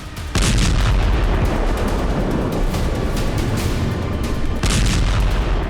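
Heavy, sustained rumbling blasts of Israeli missile strike explosions hitting buildings in Gaza at night, loud and continuous, with a sharp new boom near the start and another toward the end.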